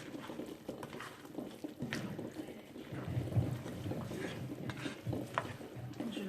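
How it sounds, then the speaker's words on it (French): A pot of Moroccan rfissa sauce with lentils simmers and bubbles, giving a soft, continuous sizzle. Occasional stirring and light clinks of a utensil against the pot sound close by. "Et je la laisse mijoter quelques minutes."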